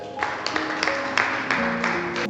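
A church congregation claps steadily throughout, dense continuous applause with a few louder accented claps, a pitched tone from music or voices sustained underneath.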